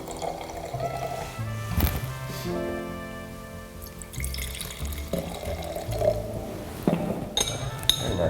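Wine, a 2016 Pinot, is poured into a glass in a winery barrel room, with liquid trickling, a few glass clinks and tonal ringing, close and moderately loud.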